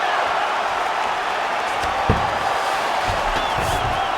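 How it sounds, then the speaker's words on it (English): Crowd roar in the EA Sports UFC 5 video game during a women's bout, a steady loud wash of cheering throughout with a single thud partway through. "Crowd goes crazy as she reverses the position."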